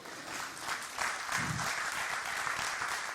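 Church congregation applauding the Lord during a sermon, dense sustained clapping with a low murmur beneath, fairly distant and even throughout.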